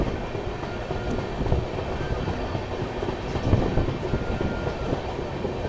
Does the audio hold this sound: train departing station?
yes